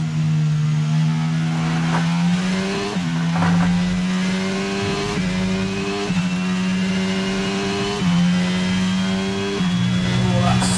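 F1 22 race car in the video game, a loud high-revving engine whine that steps down through repeated gear changes as it brakes after crossing the line, with tire noise underneath.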